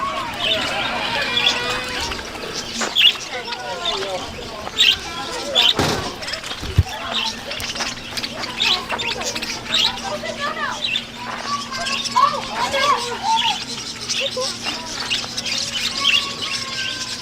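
Budgies chirp and squawk in a busy roadside aviary, a steady scatter of close and distant calls throughout, with people talking, a low hum and a thump or door slam midway.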